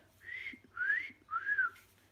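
A person whistles three breathy, wavering notes close by, quiet and a little airy.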